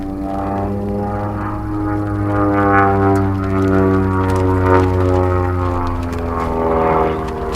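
A propeller aerobatic plane, flying an advanced competition sequence, sets up for a tail slide with a strong, buzzing engine drone rich in harmonics. The drone rises and falls in pitch as power changes, loud and close, with no talk.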